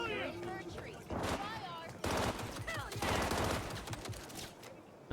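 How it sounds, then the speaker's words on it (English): Bursts of rapid automatic turret gunfire in the video game Cyberpunk 2077, fusillades of shots in several runs, with a voice speaking in between. "Come on, turret, shoot him."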